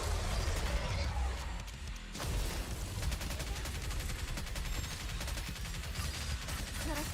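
A character in a gacha video game fires a gun in long rapid bursts, dense crackling shots under a busy game soundtrack, pausing briefly before the firing resumes, with a voice talking over it.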